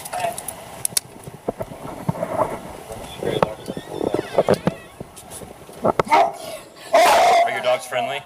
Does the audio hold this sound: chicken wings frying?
no